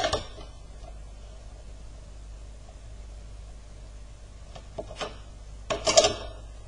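An eraser rubbing out a pencil drawing on paper: a quiet stretch of hiss, then a few short, close scrubbing strokes near the end.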